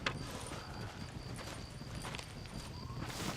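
Rhythmic clip-clop of horse hooves at a steady trot in Red Dead Redemption, with a faint whinny and a background hum.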